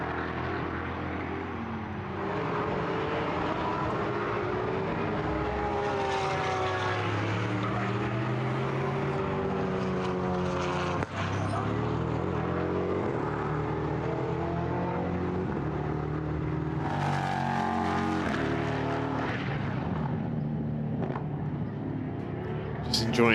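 A V8 Vortex race car engine drones and revs as it passes on the Portimão circuit during a GT endurance race, with the pitch rising and falling under continuous commentary.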